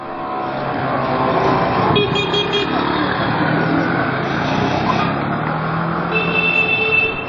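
Brand-new 2012-plate Honda C90 copy motorcycles pulling away on a road in Turkey, a continuous loud engine drone from several small bikes with a couple of short horn toots near the end.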